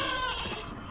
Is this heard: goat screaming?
yes